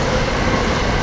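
Loud, dense rumble of a train rolling close by, a steady roar filling the brief moment with no distinct voices.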